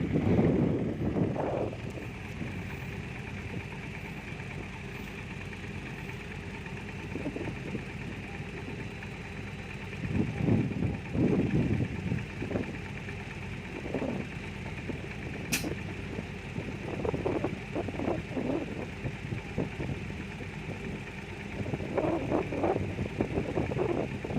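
Strong cold wind buffets a microphone outdoors near a Hitachi 200 excavator digging a pond, giving a broad rumbling roar with gusty surges and a steady engine-like drone underneath.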